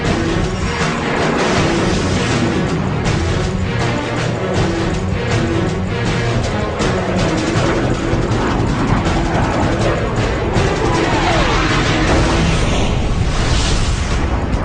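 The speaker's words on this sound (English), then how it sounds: "Two more F-35s fire on the SA-23 launch sites." Missile strikes from F-35 fighters exploding on SA-23 surface-to-air launch sites, a dense, continuous roar of blasts and rumbling booms running loud for the whole stretch, with no talk.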